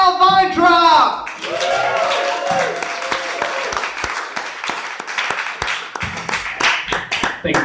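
An audience at a stand-up comedy show breaks into sustained, dense clapping and applause after a brief shout at the start, the sharp hand claps staying loud and close before gradually thinning out.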